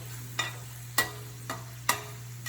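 A spoon stirring taco meat with jalapeno peppers and diced tomatoes in a pan, five distinct scraping knocks at a slow, even pace over a faint, steady sizzle.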